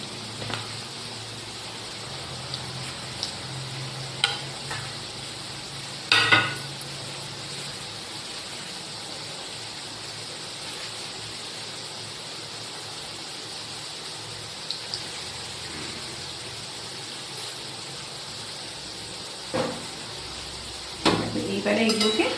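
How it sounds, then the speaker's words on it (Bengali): Food is stirred in a pan during home cooking, with a faint background sizzle and scattered scraping clatters of a utensil against the pan, some louder clanks near the start and end. "এইবারে এগুলোকে নেড়ে নেব।"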